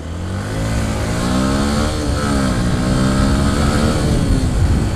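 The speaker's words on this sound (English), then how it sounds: "So that was my first bike, a little Simjet 50 moped." A small Simjet 50 moped engine revs steadily and loudly up close, its buzzing pitch rising and holding high throughout with no talking.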